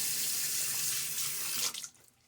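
Tap water running into a sink for a splash rinse between razor passes during a wet shave, a steady close hiss of flowing water that cuts off abruptly near the end, leaving a few faint drips.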